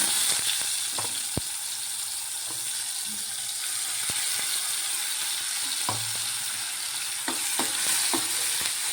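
Ground onion, ginger, garlic and tomato paste fry in a pan for chitti garelu pulusu, a steady broadband sizzle with occasional sharp scraping clicks of stirring, close and alone without talk.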